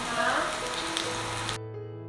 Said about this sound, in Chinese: 继续不停的翻炒